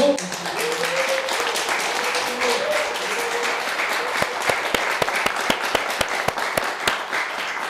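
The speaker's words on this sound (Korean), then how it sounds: "큰 박수로 부탁드립니다" An audience at a Won Buddhist temple anniversary lecture event gives warm applause, steady crowd clapping that thins into a few distinct, spaced claps near the end, with a brief voice at the start.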